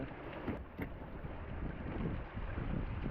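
Steady gusting wind buffets the microphone, a low continuous rumble and roar with no voices, fairly faint overall.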